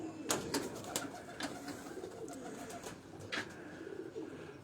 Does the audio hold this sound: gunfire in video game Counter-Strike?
no